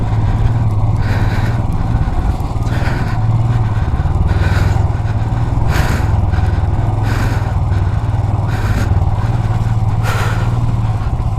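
A motorcycle crawls in first gear over a rough mountain road between Padum and Kargil, its engine a loud, steady low drone with periodic clattering bumps and rattles.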